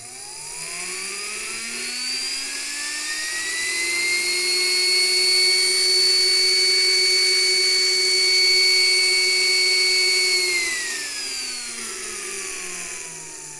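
A small 3D-printed three-phase electric jet motor with a rotor-stator seal, second version, whines up to a steady high-pitched scream, holds it for several seconds, then winds back down, loud and close with no voices.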